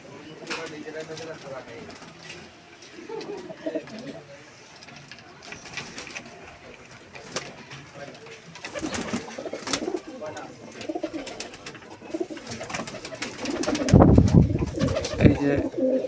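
Pakistani pigeons coo in a loft, their soft throaty calls repeating close by while people talk nearby.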